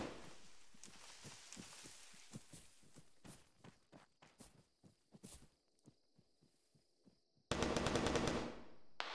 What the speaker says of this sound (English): Green's at the wall, taking fire from the east.